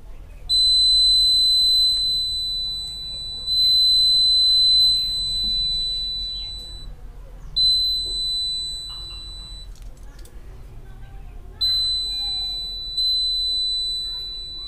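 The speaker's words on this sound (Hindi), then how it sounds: "अगर मान लो कोई चोर यहाँ पर बहुत तेज़ी से लेज़र के सामने से चला गया फिर भी ये थोड़ी देर तक बजता रहेगा" A laser home security alarm built as a school science project buzzes in long, steady high-pitched tones, sounding for several seconds, pausing briefly, then sounding again, with soft handling noise underneath.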